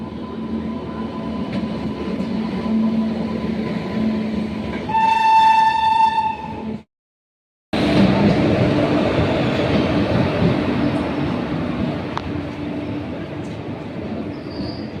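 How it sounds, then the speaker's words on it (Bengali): A goods train rumbles past steadily and loudly near an Indian Railway line, its horn sounding a sustained blast midway before the clatter and roar of the wagons continue. "মালগাড়ি,"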